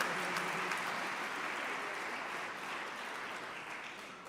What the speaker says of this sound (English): So can we give Brother Frank a well-deserved round of applause?